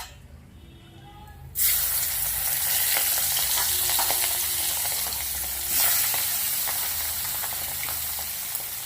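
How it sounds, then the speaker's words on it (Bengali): Pieces of fish dropping into hot oil in a pan and frying, a loud, steady crackling sizzle that bursts in suddenly after a quiet start and swells briefly again midway, with no talking. "এই কোটা ভেজে নেবো ভেজে নিয়ে তারপরে তুলে নিয়ে মাছটা ঝাল করে নেবো"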